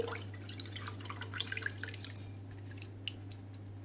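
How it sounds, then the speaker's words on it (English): Mango pulp water pours and trickles into sugar water with small splashes and drips, faint and close, over a steady low hum. "add in your pulp water into the sugar water"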